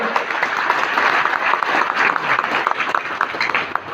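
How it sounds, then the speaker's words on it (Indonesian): Audience applause at a sales closing seminar, a crowd clapping at close range with individual claps standing out, steady and fairly loud throughout. "Jadi tepuk tangan dulu sama mereka tuh"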